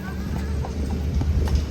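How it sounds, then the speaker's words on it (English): A horse walks past with steady clip-clop hoofbeats at a hotel demolition site, the hooves sounding moderately close over a constant low rumble of background noise. "There's a horsey for you, Cholo."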